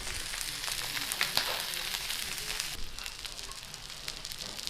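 Steak sizzling steadily in a hot pan as butter goes in, a dense continuous hiss with small crackles and pops, fairly close and without talk.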